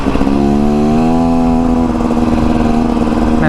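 A 2024 Beta Xtrainer dirt bike engine revs hard and climbs through first gear, a loud, steady close-up drone with rising pitch that holds continuously with no talk over it.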